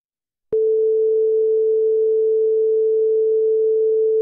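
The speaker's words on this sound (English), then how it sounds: "Click the Preview button to listen to the tone" Silence, then a pure, steady 440 Hz sine test tone switches on abruptly and holds at an unchanging pitch and loudness.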